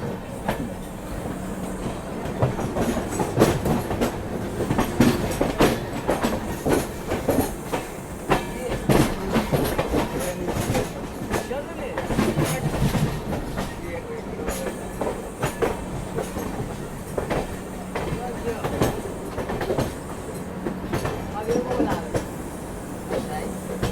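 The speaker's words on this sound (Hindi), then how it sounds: "तो ये है हमारी डबल डेकर सुपरफास्ट एक्सप्रेस।" A double-decker superfast express train runs alongside on a parallel track, with a continuous rumble and rapid clickety-clack of wheels at close range.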